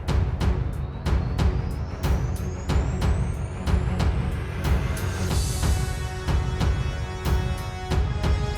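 Russian T-80BVM tank moving into firing position: heavy engine roar under steady, regular clanking pulses, with a rising mechanical whine partway through, loud and near.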